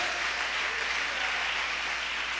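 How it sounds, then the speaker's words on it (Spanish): A church congregation applauding together, a dense, steady wash of many hands clapping that holds at an even level throughout, with no voices rising above it. "¿Cuántos dan un aplauso a Jesucristo?"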